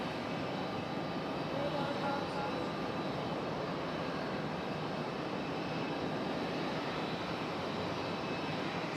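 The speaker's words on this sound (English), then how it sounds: "This is that JetBlue we heard land over on 5 Raleigh a while ago." A JetBlue airliner's jet engines at Raleigh-Durham airport give off a faint, steady, distant roar, an even broadband rumble holding at the same level throughout.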